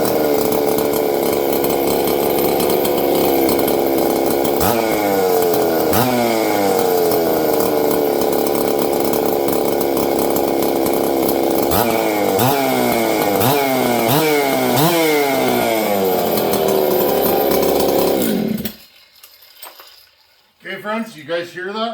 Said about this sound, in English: I'll fire up the 268 giveaway saw.